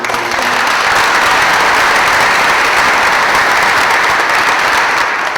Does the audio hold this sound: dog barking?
no